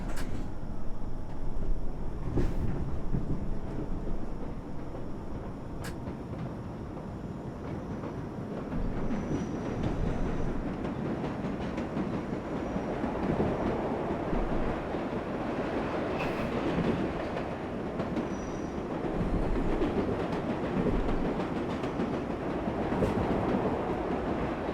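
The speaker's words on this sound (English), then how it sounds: "This is the number 7 local train to Times Square, Manhattan." A New York subway number 7 local train in the World of Subways 4 game, running with a steady low rumble and rolling wheel noise, occasional sharp clanks and faint squeals, continuous and fairly loud with no voices.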